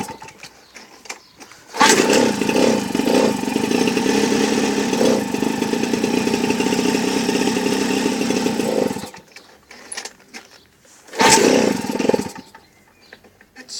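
A small engine is throttled up, a loud buzzing rev that holds for several seconds, drops to quiet idle, then surges again in a second shorter burst.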